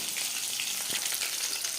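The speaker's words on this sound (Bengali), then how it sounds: "দু তিনবার এভাবে একটু উল্টে পাল্টে ক্রিস্পি করে ভেজে নেব" Tuna fish pakoras frying in hot oil, a steady close crackling sizzle with light bubbling throughout, no voices.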